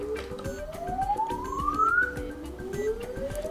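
Samsung Galaxy Fold earpiece receiver playing a rising sweep test tone, a single pitch climbing steadily then restarting, heard clearly over a steady clicking rhythm in the background.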